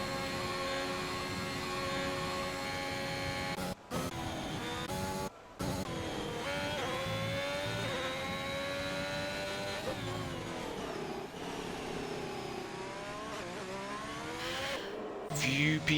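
Ferrari race cars in a sim racing event at Portugal drive past with droning engine notes that rise and fall steadily, a continuous moderate roar with a couple of brief dropouts.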